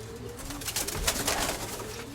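A white-tailed pigeon coos in a short, close, rolling burst that swells in the middle, heard alone.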